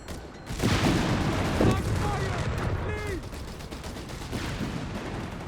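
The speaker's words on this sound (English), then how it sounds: "We've got the 47mm gun engaging the American troops out in the open." A 47mm anti-tank gun firing in the World War II strategy game Company of Heroes 3, with sharp reports and booms amid a continuous roar of battlefield gunfire, dense and loud, with game voices faintly mixed in.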